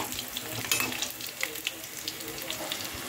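Cauliflower pakoras for cauliflower 65 bubble and crackle in hot oil while being turned, a dense close frying hiss with small irregular pops and stirring scrapes throughout.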